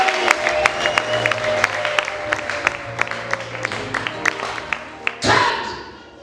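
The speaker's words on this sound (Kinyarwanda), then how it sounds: "Niba byumvise komera Imana amashyi." Church congregation applauding during a sermon, scattered sharp claps over a murmuring crowd and background tones, ending in a brief louder burst.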